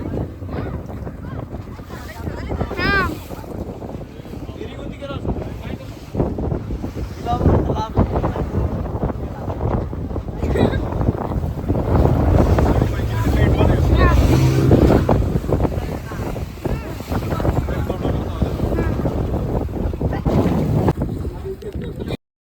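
A boat rides out at sea off Malpe beach, with a continuous rush of wind buffeting the microphone and a low engine and water drone running under faint background voices.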